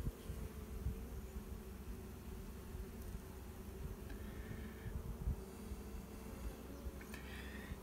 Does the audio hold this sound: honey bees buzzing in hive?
yes